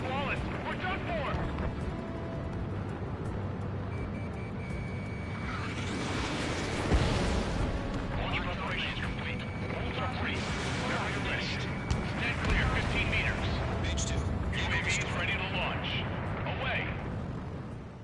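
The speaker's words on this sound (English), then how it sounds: "Enemy's airstrikes are flawless" Enemy airstrikes in a PS4 combat game, repeated booming blasts and rumbling bursts layered over a constant roar, with radio-style voices talking throughout.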